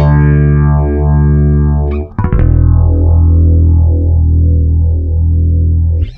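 Electric guitar played through vintage orange effects pedals, a steady sustained tone with deep sweeping phaser-like swirls. It continues loud and full for about six seconds, with a brief choppy break partway through.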